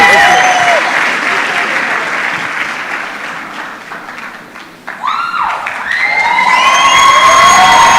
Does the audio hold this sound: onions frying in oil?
no